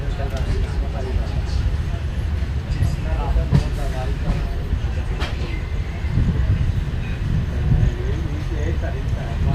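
An Indian Railways train running on the line, a continuous heavy rumble with clickety-clack of wheels and rattling of the carriage, heard from on board with voices talking over it.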